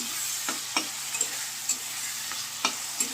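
Onions fry in oil with black pepper and bay leaves under a constant hiss, broken by sharp scraping stirs of a spoon against the pan every half second or so, nearby and without voices.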